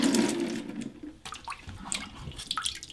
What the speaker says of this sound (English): flush the toilet, making sure all the water is out of the toilet